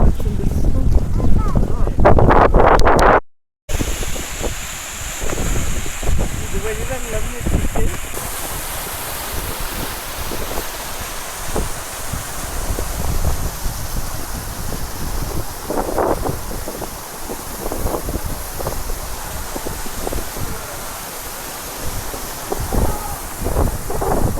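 Strong wind roars and buffets the microphone continuously in dense forest at Shees Wadi near Khor Fakkan, with rumbling gusts and a brief dropout near the start.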